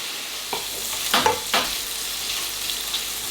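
Lardons frying in a pan until browned and crispy, a soft continuous sizzle with a few brief stirring scrapes near the middle, close and moderate in level.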